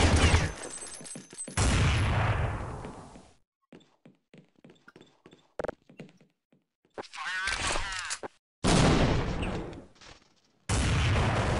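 Gunfire in Counter-Strike 1.6: several loud bursts of rifle fire, separated by quieter gaps holding scattered single shots and clicks, with talk heard between the volleys.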